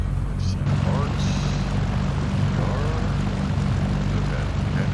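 A steady propeller aircraft engine drone from the X-Plane 11 flight simulator game runs continuously at moderate level, with someone talking over it.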